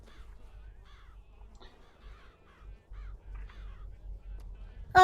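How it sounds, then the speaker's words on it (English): Ravens in Bioshock Infinite cawing repeatedly in a steady series of harsh calls over a low rumbling game backdrop, moderately near, with no talking. "I think they're actual ravens."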